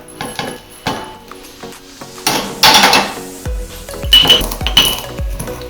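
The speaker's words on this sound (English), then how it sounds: "crush the peppercorns." Toasted peppercorns are crushed in a mortar, giving a series of sharp clinks and knocks with gritty grinding between them, close and clear, with no talking.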